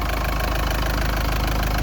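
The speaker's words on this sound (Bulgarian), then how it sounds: "Така работи двигателя." The diesel engine of a 2004 Hymer B524 camper van idles close by, a loud steady rumble with an even, rapid knocking pulse running through it.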